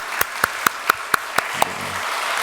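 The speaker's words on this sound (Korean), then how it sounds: "우리 환영과 축복의 박수 하겠습니다." A church congregation at a Sunday worship service claps in unison, with seven sharp, evenly spaced claps in a steady rhythm that then stop.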